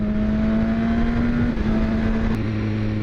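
A 2015 BMW S1000RR inline-four motorcycle engine holds a loud, steady high-revving drone close by, its pitch dipping briefly near the middle and stepping down toward the end as the revs ease off.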